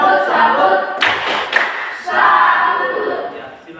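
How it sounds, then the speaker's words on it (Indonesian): A classroom of students claps in a rhythmic burst of applause for a student, with a short pause and then more clapping, mixed with chatter and light laughter. "kita berikan tepuk salut untuk Kelly"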